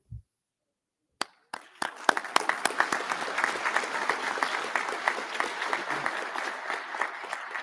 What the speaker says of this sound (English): I appreciate that you all applauded